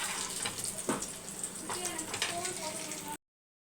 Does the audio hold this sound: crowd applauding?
no